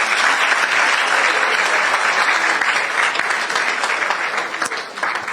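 Crowd clapping fills the hall at the 2023 National Science and Maths Quiz championship launch. The applause is sustained, loud and even, with no voices, easing only slightly at the very end.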